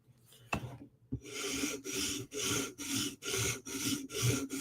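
A Chris Reeve Inkosi tanto knife bevel ground by hand, a close rhythmic rasping scrape repeated about seven times in steady strokes after a couple of sharp knocks, no talk.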